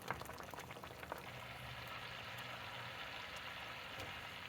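Sauce for morel chicken simmers and reduces in a pan, giving a soft, steady bubbling and crackling fizz that stays constant and close throughout, with tiny popping ticks scattered over it.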